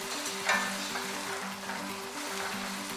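Garlic ginger paste sizzling and frying in a pan, a soft continuous crackle with occasional stirring scrapes, quiet and close.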